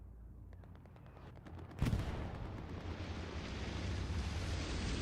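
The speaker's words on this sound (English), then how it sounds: "Ooh, another good Artie shell." An artillery shell blast in the World War II shooter Hell Let Loose: a sudden sharp boom after distant popping gunfire, followed by a long, rolling low rumble that keeps swelling and rumbling onward.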